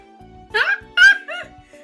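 A wolf character in the video game Trails from Zero gives a few short, sharp barks and yips, three distinct bursts over a faint low game background.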